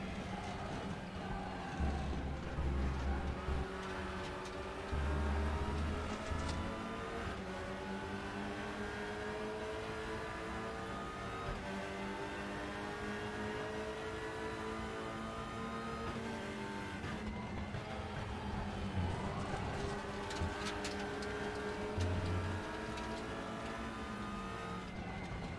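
TCR touring race cars in the RaceRoom sim racing game: a steady, loud engine drone that rises and falls through gear shifts, with other cars nearby and occasional low thumps over kerbs.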